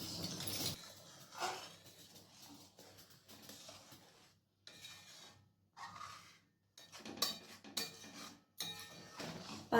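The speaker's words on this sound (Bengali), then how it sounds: "এরপর আবার নাড়াচাড়া করে নিচ্ছি।" Payesh, a milk rice pudding with caramel added, is stirred in a pot, giving intermittent soft scraping and clinking of a utensil against the metal in short bursts separated by pauses.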